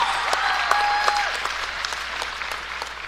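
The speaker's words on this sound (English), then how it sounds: "Big round of applause, Willow Daniels." Crowd applause at a high school basketball senior night fills a gym, steady clapping throughout with a few sharper claps and whistles over the top, gradually easing toward the end.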